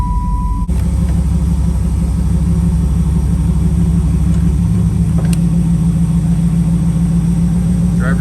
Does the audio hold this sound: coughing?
no